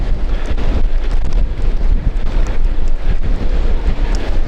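Wind buffeting the microphone during a mountain bike ride on a quarry trail, a loud, continuous low roar that fills the whole stretch without letting up.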